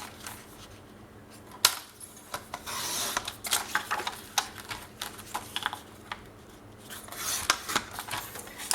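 Paper being cut with scissors for a scrapbooking album page, heard as a close series of dry snips and rustles that come in uneven bursts, with no voices.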